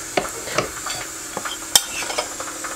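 A mixture being whisked in a bowl gives a series of quick, irregular clinks and scrapes, close and fairly light, with one sharper metallic tap near the middle and no voices.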